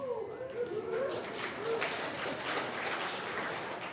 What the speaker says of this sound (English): Any time we're together is always worth a round of applause.